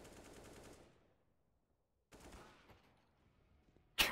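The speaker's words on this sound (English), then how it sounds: "I just hear shooting everywhere." CS:GO gunfire: a quick rattling burst of automatic shots, silence, another fainter volley that tails off, then a sudden sharp, loud shot right at the end.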